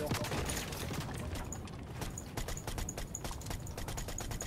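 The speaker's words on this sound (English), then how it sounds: "We're being shot from there, by the way." Rapid gunfire from a Fortnite match in The Floor is Lava mode, with dense, repeated shots crackling continuously at fairly loud volume and a few sharper bursts standing out, against a busy game soundscape with no clear talk.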